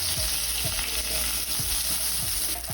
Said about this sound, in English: We're going to add some capsicum and onions. And we're just going to toss this for 3 to 4 minutes.